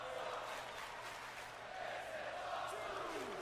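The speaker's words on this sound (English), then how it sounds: "This is awesome chant from the crowd here at Venom." A crowd chanting "This is awesome" at the Venom arena in the wrestling video game WWE 2K, a distant, roaring mass of voices swelling and falling, faint, with no commentary over it.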